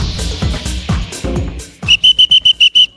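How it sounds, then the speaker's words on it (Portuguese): A TV host blows a whistle on a talk programme set: several longer uneven blasts, then a rapid run of short, sharp, loud toots, heard alone and up close. "agora eu peguei meu apito porque eu quero ordem neste programa aqui"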